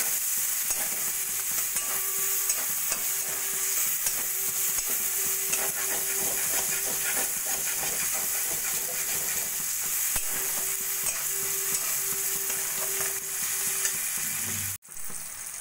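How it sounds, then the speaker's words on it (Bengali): Chopped onion and tomato with salt and turmeric fry steadily in a pan for prawn mustard curry, a loud continuous sizzle with frequent stirring scrapes that stops abruptly near the end. "এবার পেঁয়াজ আর টমেটোটা একটু ভাজা ভাজা করে নেব।"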